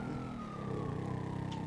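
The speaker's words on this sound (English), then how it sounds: "I hear sirens" Police siren in the GTA 5 video game, a loud wailing tone that sweeps steadily over vehicle engine noise and stays close throughout, without talk.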